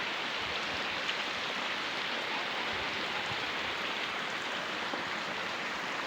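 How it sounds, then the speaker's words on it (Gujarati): Steady rain falling outdoors with water running everywhere, making a constant, even hiss with no pauses and no voices. "વરસાદ અત્યારે ચાલુ જ છે"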